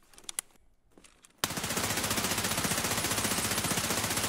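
P90 submachine gun firing in Escape From Tarkov: a few faint sharp reports, a short gap, then a loud sustained burst of rapid, evenly spaced shots running close up to the end.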